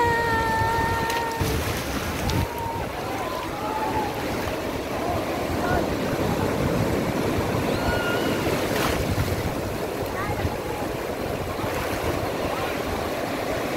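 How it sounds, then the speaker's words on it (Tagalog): Large ocean waves surge and crash along a shore in a continuous roaring wash, with heavy wind buffeting the microphone and a few brief voices and whistles early on. "Ang laki ng mga alon."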